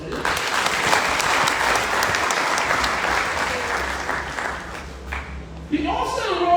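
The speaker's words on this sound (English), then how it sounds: "A round of applause for him." Audience at a university convocation lecture breaking into loud sustained applause for the guest professor, fading after about five seconds as a voice begins speaking over the last of the clapping.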